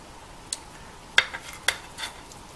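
A knife or utensil works through sticky pulut gula melaka, glutinous rice with palm sugar, giving a few sharp clicks and scrapes against a plate or board, sparse and fairly quiet.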